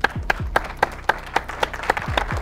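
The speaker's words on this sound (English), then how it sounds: "Let's clap it up." A small group claps together in a studio-like room, sharp claps landing in a steady, evenly spaced rhythm about four per second, close and distinct over a low rumble.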